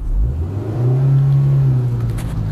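A car engine revs hard in low gear while driving through deep flood water, a steady loud mid-pitched drone that climbs and holds, close by with a constant watery rumble underneath.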